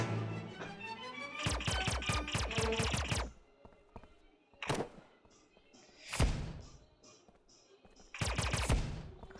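Bursts of rapid gunfire from a shooting video game, a dense volley of repeated shots at the start followed by a few separate loud blasts spaced out over the rest.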